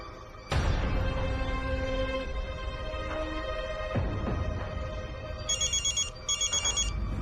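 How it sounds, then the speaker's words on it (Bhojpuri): A telephone rings in a domestic drama scene. A sharp electronic trill sounds in two quick bursts near the end, clear and close, over a quiet, tonal background. "फोन उठावा रजू चाची।"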